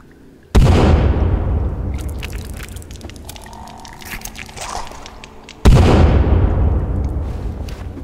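Two heavy bomb explosions go off in the survival video game The Forest, each a sudden loud boom that rumbles and slowly fades, spaced about five seconds apart, with faint crackling in between.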